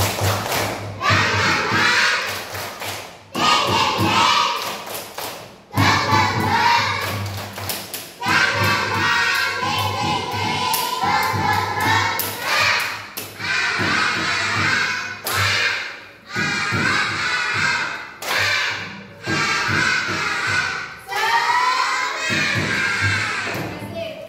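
A class of children at school clap out a rhythmic chant together in loud bursts, with claps and shouted voices repeating in bursts separated by brief pauses.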